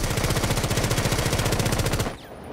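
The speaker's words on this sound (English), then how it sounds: "when you shoot with Ash without managing the recoil is going upright" Ash's assault rifle in Rainbow Six Siege fires a loud, rapid, evenly spaced automatic burst lasting about two seconds. It then cuts off abruptly into quieter game ambience.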